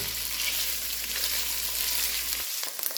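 Sausages frying in a pan with a dense, bright, continuous sizzle and occasional stirring scrapes, close and steady until the hiss drops away near the end.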